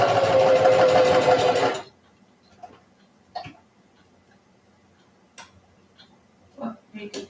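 A sewing machine stitches in a steady, loud mechanical run for about two seconds. Near-silence follows, broken by a few faint clicks and handling taps.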